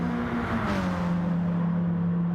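GT3 race cars in a sim racing game drone steadily, a sustained engine tone with a pitch sweep as one car passes, holding a continuous mid-loud roar throughout.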